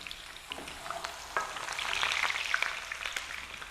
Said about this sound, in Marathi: खमंग तळून घ्यायचे आहेत ना बटाटे?